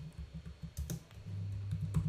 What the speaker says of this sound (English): Suppose we are going to type the message as